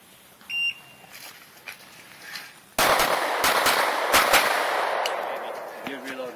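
Pistol shots ring out in quick bursts during a USPSA shooting match stage, sharp loud cracks outdoors after a quiet stretch with a brief beep, a voice audible faintly.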